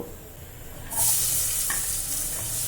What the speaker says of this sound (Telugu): నాలుగు ఉల్లిపాయల్ని ఈ విధంగా చాప్ చేసి వేసుకోండి